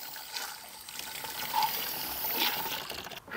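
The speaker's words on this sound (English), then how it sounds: "Rinse the easy scale." Water splashes and trickles while rinsing a Lay Z Spa Easy Scale descaling unit, a continuous close hiss with a few louder gushes near the end.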